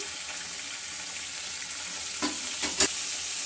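Chicken coated in soy sauce with chopped garlic and ginger frying in a pan, a steady quiet sizzle with a few sharp stirring knocks near the end.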